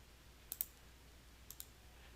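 A computer mouse clicking during setup of a network capture, two quick pairs of crisp, faint clicks about a second apart in an otherwise quiet room.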